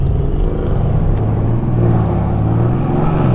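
Mercedes-AMG cars, among them an E63, C63, S63 and E53, rumble and rev as they pull away, a loud, dense, continuous engine roar heard close by.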